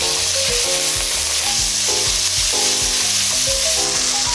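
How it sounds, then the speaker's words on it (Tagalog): Chicken gizzards sizzle steadily in a pan with sautéed garlic and onion, a loud continuous frying hiss that never lets up, with no one speaking over it. "medyo nawawala na po yung sound ng sizzling ng ating balon-balunan"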